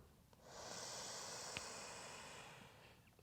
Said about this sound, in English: Breath is pretty audible.